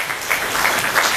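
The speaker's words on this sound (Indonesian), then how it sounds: "Ya, tepuk tangan lebih dahulu." An audience breaks into steady applause at a formal talk about radicalism in Yogyakarta; the clapping is dense, continuous and fairly loud for the whole moment, with no voices over it.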